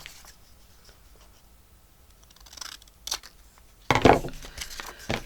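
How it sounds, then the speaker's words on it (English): Scissors snipping paper for a junk-journal two-page spread, with a few quiet crisp cuts followed by a louder, longer rustling cut near the end, close up and without speech. "Okay, I'm going to cut that off right there."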